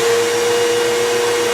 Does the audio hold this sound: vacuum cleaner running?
yes